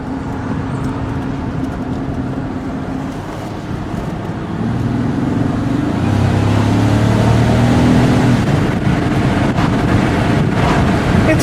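A 2006 Buick Lucerne drives along while its engine drone swells as it accelerates and shifts, with road and wind noise steady throughout and no talking.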